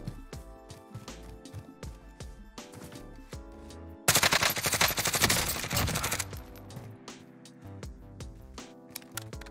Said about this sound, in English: I legit heard suppressed gunshots.